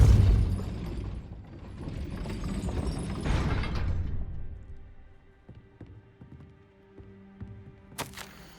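A gate mechanism in Hogwarts Legacy grinds and ratchets upward after a spell, a loud rumbling clatter for about four seconds that fades into sparse clicks and ticks, ending in a sharp clank.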